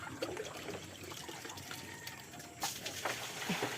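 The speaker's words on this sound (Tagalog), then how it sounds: "Tapos nilalagyan ko lang ng tubig" Water trickles and pours steadily at a farm as it is added to dry feed for animals, a soft continuous liquid splashing that grows slightly louder near the end.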